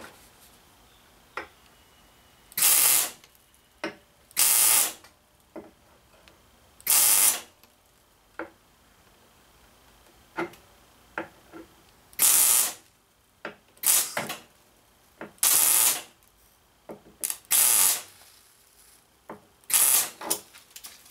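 Short bursts of welding on a small part for a miniature trailer: about a dozen brief, harsh crackling zaps, each lasting under a second, separated by quiet gaps and small clicks.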